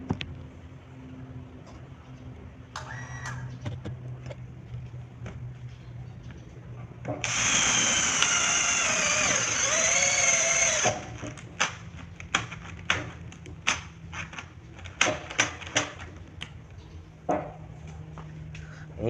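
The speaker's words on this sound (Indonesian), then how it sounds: "Kita coba menggunakan mata bor ulir ya." A HiLDA cordless drill with a twist bit whirs loudly for a few seconds as it bores into hard material, surrounded by quieter clicks, taps and handling noises.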